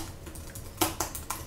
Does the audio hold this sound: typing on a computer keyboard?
yes